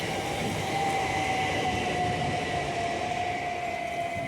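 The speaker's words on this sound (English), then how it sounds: "With the freight train on the back!" Freight train rolling through Southend Central station, a continuous rumble of wagons with a high sustained wheel squeal running through it, heard fairly close.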